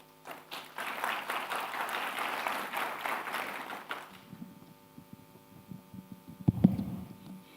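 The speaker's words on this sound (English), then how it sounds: "Please give her a round of applause as she makes her remarks." Audience at a conference closing ceremony claps for about four seconds in a moderate, steady patter, then the applause stops and only low hum and a few dull thumps remain.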